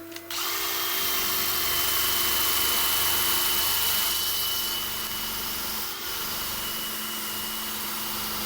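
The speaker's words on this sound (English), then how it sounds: "I'm just going to quickly see if my flappy disc will do it" A flap disc grinds against a piece spinning on a lathe, a steady, loud, continuous whine with high abrasive hiss and a faint dip near the sixth second.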